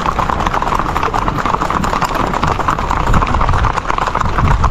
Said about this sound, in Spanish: Esto del caballo rápido, mis amigos, en Puerto Rico, eso es parte y sinónimo de cabalgar.